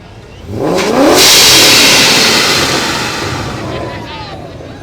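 Ford Mustangs roll past in a Christmas parade in Greer, engines swelling from a quiet start into a loud, broad rev that holds for a few seconds and then slowly fades, with crowd voices faintly underneath.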